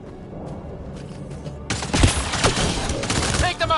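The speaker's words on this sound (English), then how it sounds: "They shot him!" Gunfire in Mass Effect Andromeda erupts suddenly after quieter murmuring, a rapid loud volley of shots with heavy low thumps that keeps rattling close by to the end.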